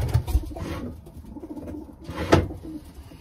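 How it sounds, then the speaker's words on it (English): A racing pigeon coos in its loft, giving a few soft, throaty coos spread across a few seconds, fairly close and alone with no talking over it. "That pigeon is Mazda for Mazda Special"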